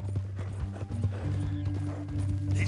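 Horse hooves clip-clopping in the video game Red Dead Redemption 2: a steady, moderately near walking rhythm of hoof strikes over low ambient game sound.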